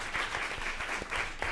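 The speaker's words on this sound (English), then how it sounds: "let's give Sophia Middleberg a round of applause" Applause from an audience at a school district board of education meeting, honoring a student; steady, moderately loud clapping that runs through the whole moment without talk.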